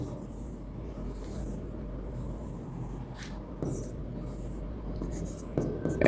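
Pen strokes scratch steadily across paper as figures for a class 8 math problem are written out, a faint continuous scribble with a few louder marks near the end.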